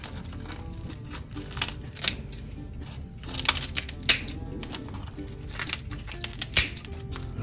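Scissors snip through crispy lechon kawali (deep-fried pork belly) at close range in a series of irregular crunchy cuts and clicks over a quiet background.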